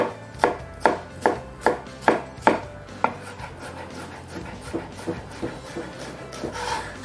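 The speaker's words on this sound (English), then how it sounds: "here, we're gonna make another little cut right there" A knife chops brunoise vegetables on a cutting board for stuffed salmon, with a run of about seven crisp, evenly spaced chops at first, then softer, irregular cuts and scraping.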